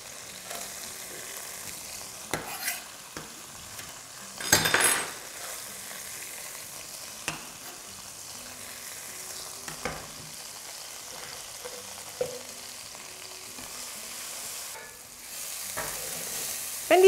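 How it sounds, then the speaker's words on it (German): Onions fry in a pan in the same cooking liquid left from browning meat, a quiet continuous sizzle broken by occasional scrapes and stirring clatters, with a louder burst of sizzling partway through. "in dem gleichen Sud die Zwiebeln anbraten"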